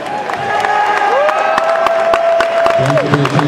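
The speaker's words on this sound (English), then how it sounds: "Let's give them a big round of applause." Crowd cheering, whoops and applause at a high school championship swim meet as the seniors walk around the pool, a steady loud roar with sustained whistle-like tones and a voice speaking over it near the end.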